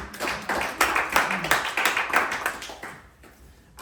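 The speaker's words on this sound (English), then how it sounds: "A huge round of applause for all of you for presenting." Audience applause for presenters at an evening talk event on religious literature, a short burst of claps that swells and fades out toward the end, fairly near.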